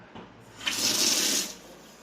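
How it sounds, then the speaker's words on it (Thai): Water rushes hard through a pipe into a toilet tank while a float valve is being replaced, starting abruptly, gushing steadily for about a second, then tapering off, close and alone. "ลองเปิดน้ำเข้าดู"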